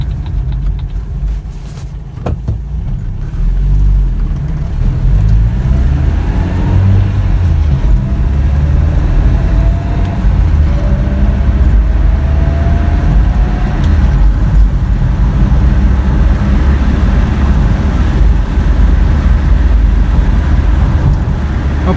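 A 1985 Toyota pickup truck engine running steadily on a test drive, a loud constant low rumble with road noise heard from inside the cab and no speech.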